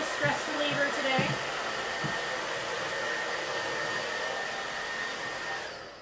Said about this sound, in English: So blow dryers are super handy to have at your paint station.